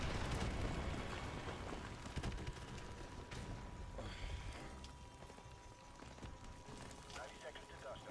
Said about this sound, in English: Stand by for airstrike.